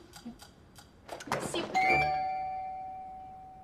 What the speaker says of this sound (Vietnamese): Anh nghe tiếng chuông đi.